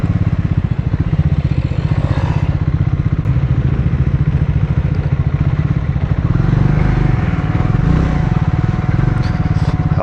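A scrambler motorcycle rides a short off-road detour in India, its engine a loud, steady, close throb with rattling and clattering over rough ground throughout.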